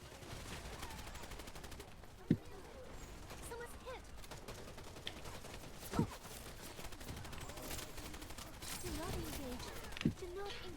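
Gunfire in the video game Wild Assault, a steady stream of rapid shots with a few sharper louder cracks, mixed with game action while a person talks over it.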